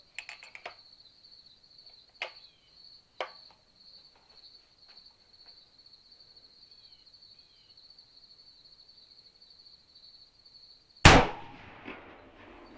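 A .375 CheyTac rifle fired from a bipod lets off one loud, sharp shot near the end of a long, quiet stretch with steady insect chirping and a few faint clicks beforehand.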